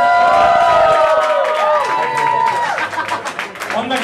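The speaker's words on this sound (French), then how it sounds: "j'aimerais que vous applaudissiez très très fort" A live cabaret show audience claps and cheers loudly, with whoops and shouted voices rising over dense, steady applause for the full four seconds.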